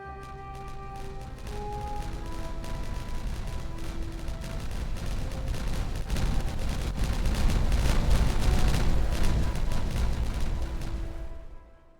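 Explosives detonate in rolling succession in Timberborn, a dense rumbling barrage of blasts that builds toward the end, with steady game music tones running underneath before everything cuts off.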